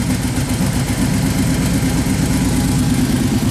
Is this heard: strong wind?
no